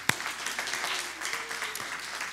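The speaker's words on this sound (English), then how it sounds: "we can certainly applaud that" Church audience applauding a member's contest win, a sustained wash of clapping that starts with a sharp clap and continues steadily at moderate level for a couple of seconds.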